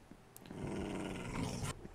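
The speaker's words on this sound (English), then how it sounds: "Oh, there's another dog over here." A dog in the Minecraft video game gives a low, rumbling growl lasting over a second, close and moderately loud, with a brief higher yip at the start and nothing else heard.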